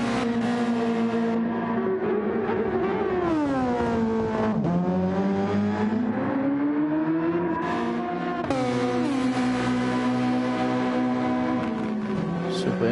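Super Formula race cars in the Scorpio video game series at the Dragon Trail circuit, engines loud and close, rising and falling in pitch through shifts and corners as one car trails another downhill, with faint commentary underneath.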